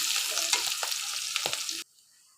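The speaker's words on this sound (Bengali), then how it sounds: "পেঁয়াজটা আমি খুব ভালোভাবে ভেজে নেব লালচে করে" Chopped onions with slit green chillies frying in oil until reddish, a steady loud sizzle with a few stirring scrapes, cutting off abruptly near the end.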